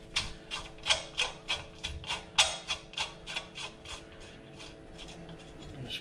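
A threaded oxygen sensor bung plug being screwed into a motorcycle exhaust, giving a close run of about a dozen rhythmic metallic rasping clicks that slow and fade toward the end.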